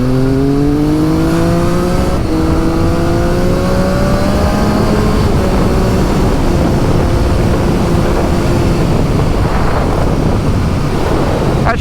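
A 2023/2024 Triumph Street Triple 765RS fitted with a RapidBike Evo module is ridden hard, its raspy engine and exhaust climbing in pitch through several gear changes under loud, constant wind rush.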